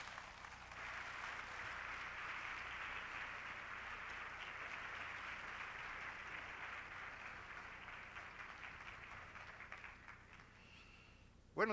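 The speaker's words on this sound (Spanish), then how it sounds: "demos la bienvenida y un aplauso a don Macario Schettino" Audience applause welcoming a speaker at an entrepreneurship week event in Mexico, steady hall-wide clapping of moderate loudness that slowly fades near the end.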